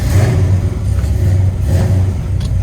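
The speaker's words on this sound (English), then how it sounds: "Alrighty, we're gonna take it for a test drive." A 1970 Pontiac GTO with a Hurst 4-speed on a test drive, its engine giving a loud, steady low rumble with slight swells in revs, heard up close from inside the car.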